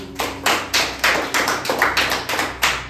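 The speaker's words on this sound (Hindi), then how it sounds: "सब ताली बजाओ इनके लिए" Children clap in about ten sharp, loud bursts in a steady rhythm, each one a short spatter of many hands, with no voices over them.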